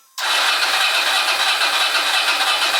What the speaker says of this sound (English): So you can hear it turning over